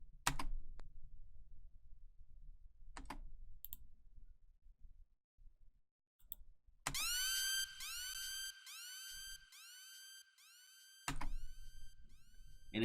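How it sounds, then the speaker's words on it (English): A synthetic siren sound effect in FL Studio 20, sweeping up and down in repeated wails, loud and close, interrupted by a few sharp clicks. "Next, I got this siren"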